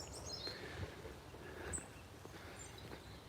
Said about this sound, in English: You can hear lots of birds around